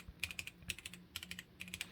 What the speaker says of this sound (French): Donc je vais remettre le keycaps.